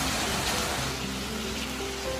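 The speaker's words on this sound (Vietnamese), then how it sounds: "Vì trời mưa lớn quá" Heavy rain pours down steadily in the Vietnamese highlands around Son La and Ha Giang, a dense, even hiss of falling water that stays loud and unbroken throughout, with no voices.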